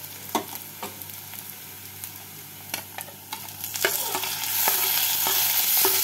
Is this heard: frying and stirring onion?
yes